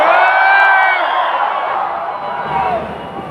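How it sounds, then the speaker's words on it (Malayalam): Young audience at a youth meet hooting and cheering together, a loud sustained crowd roar with rising whoops that slowly fades over a few seconds. "കൂവാനായിട്ടൊക്കെ തോന്നിയ ഒച്ചയിൽ കൂവണം."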